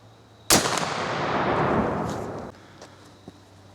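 A single loud, close gunshot from a Thompson/Center Renegade muzzleloader rifle, a sharp crack followed by a long decaying boom that fades over about two seconds, then quiet.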